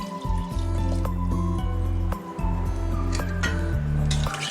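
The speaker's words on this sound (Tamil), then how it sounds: "அதில் தண்ணி மிக்ஸ் பண்ணி ஆட் பண்ணிக்கிறேன்." Water mixed with marinade is poured into a country chicken curry pot, with a steady trickling, filling stream broken by metallic clinks of a vessel and a short pause midway, close and alone.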